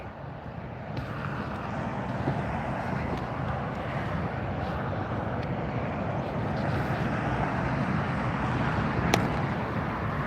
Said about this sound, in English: Now I see Delta taxiing up, so that's going to be our next departure